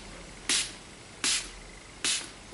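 Three short, bright hissing bursts of makeup setting spray misted onto the face, evenly spaced about three-quarters of a second apart, close and clear over a quiet background.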